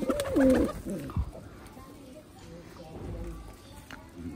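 A male Khulna high-flying chot pigeon gives a short, loud burst of cooing close up at the start, then fades into quieter ambient rustle and faint movement.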